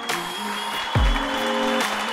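Hands clapping in brief bursts, heard alongside game sounds and a deep low thud, at the close of the Chilla's Art horror game The Kidnap; moderately loud, with no talk.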